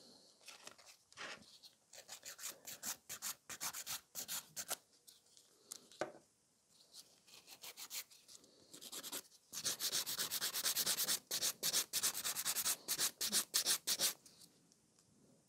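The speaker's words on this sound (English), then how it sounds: "just a couple scratches with the buffer so we don't overfile the glitter" Nail buffer rubbed across a glitter gel nail on a ring finger, rapid scratchy back-and-forth strokes in irregular bursts, growing louder and denser in the latter half.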